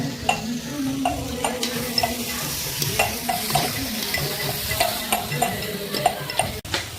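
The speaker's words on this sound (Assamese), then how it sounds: "আৰু মুনে ভাজি আছে।" Fish frying in a pan for a traditional Assamese Magh Bihu feast: a loud, continuous sizzle with scattered stirring scrapes and light clinks, close by and with no talk.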